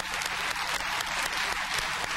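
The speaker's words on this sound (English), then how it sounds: "Let's give them a round of applause." Audience applause fills a hall, dense and continuous, with many hands clapping at once at moderate volume and no voices over it.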